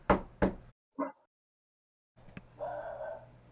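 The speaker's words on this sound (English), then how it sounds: "You hear a knock at the door." Two sharp knocks close together, then a softer thud, followed after a pause by a single tap and a brief low rumble.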